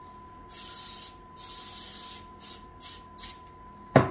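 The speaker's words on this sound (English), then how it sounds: "And then spray it again." Cooking spray hisses onto a baking pan for a pumpkin roll in about five short bursts of varying length, ending with a sharp clunk as the can is set down.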